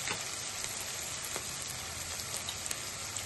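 Chopped cluster beans (goru chikkudu) frying in oil in a pan, giving a steady, dense sizzle and crackle that runs without a break from start to finish, close up, with no voices.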